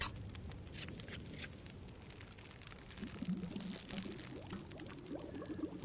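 A pot of water bubbling steadily over a fire in the survival game The Long Dark, a soft continuous seething with light patter and gurgling that thickens toward the end.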